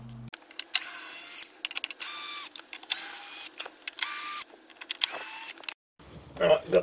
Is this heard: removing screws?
yes